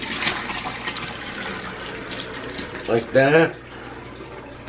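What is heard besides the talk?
straining broth from Thanksgiving stew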